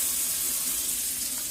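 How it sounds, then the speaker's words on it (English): Tap water runs steadily in a domestic system after the supply is turned back on during a Worcester combi boiler service, a continuous close hiss and splash with no talk. "Water's back on."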